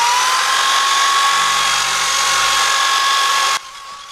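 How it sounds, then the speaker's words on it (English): A handheld electric drill running in reverse whines steadily at close range while grinding and sanding custom motorcycle wheels, a continuous high tone that cuts off abruptly near the end, leaving a fainter hum. "I have to remember that the drill is turning backwards"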